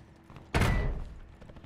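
A single loud gunshot in a shooter video game, a sharp close blast with a short decaying tail and no talk.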